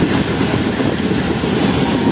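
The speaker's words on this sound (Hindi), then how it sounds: "हमारी ट्रेन एंटर हो रही है शेखपुरा जंक्शन रेलवे स्टेशन पर" Shah Hussain Express train pulling into Sheikhupura Junction station: a dense, steady rumble with wind buffeting, heard from aboard with no talking.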